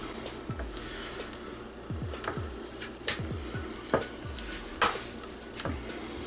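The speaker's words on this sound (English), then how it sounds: "I'm gonna mix these in by hand, starting with the lightest color, which is my white here." White colorant being stirred by hand into cold process soap batter, giving soft, wet, scraping stir strokes in an irregular rhythm with a few sharper clicks of the utensil against the container.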